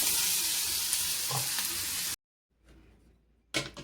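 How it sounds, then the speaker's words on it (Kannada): Curd tempering sizzles and crackles loudly in a pan for about two seconds close up, then cuts to near silence before a brief burst of sizzling returns. "ಮೊಸರು ಒಗ್ಗರಣೆ ಮಾಡ್ತಾ ಇದ್ದೀನಿ"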